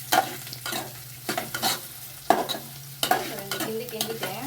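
Chopped carrots fry in a pan for vermicelli upma, a low steady sizzle punctuated by several distinct scraping stir strokes and spoon taps against the metal, close by.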